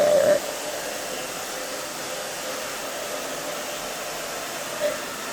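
A handheld hair dryer blows a steady, loud whoosh while drying freshly cut short pixie hair in a salon, running continuously at close range.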